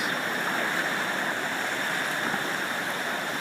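Steady, dense wash of ocean surf, a continuous broadband roar without distinct breaks, heard alone with no voices, for a calm ocean meditation setting.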